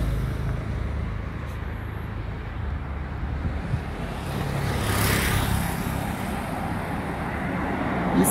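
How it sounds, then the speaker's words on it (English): Cars and other vehicles passing on a sloped road at Kitale Road junction in Nairobi's Kilimani area, a continuous traffic rumble that swells as a vehicle goes by near the middle, heard from the roadside with no talking. "vehicles pass at thrilling speed"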